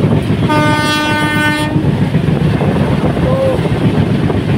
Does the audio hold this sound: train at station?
yes